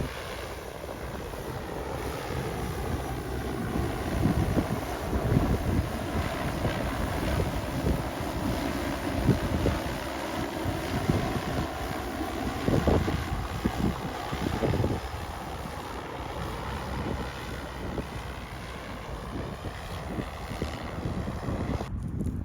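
Wind rumbles and buffets the microphone over a field where a drone sows fertiliser and oilseed rape seed, a steady, fairly loud roar with gusty swells lasting over twenty seconds.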